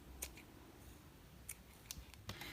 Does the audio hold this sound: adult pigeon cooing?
no